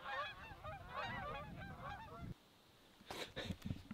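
A big flock of geese on a river honks loudly and continuously for about two seconds, close and overlapping, then breaks off into a quieter stretch followed by a few rustling thumps.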